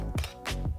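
A Canon T3i camera shutter fires at a 1/4 second exposure, giving two quiet, close mechanical clicks about half a second apart as it opens and then closes.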